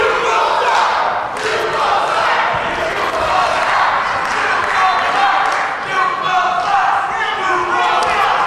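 Dense crowd roar at a live NECW tag team championship wrestling match, steady and loud throughout, with shouted voices, thumps and surges of cheering filling the arena.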